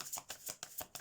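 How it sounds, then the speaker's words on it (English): Tarot cards shuffled by hand, a quick series of soft riffling flutters in a rapid rhythm, close but quiet and very brief. "let's shuffle the cards."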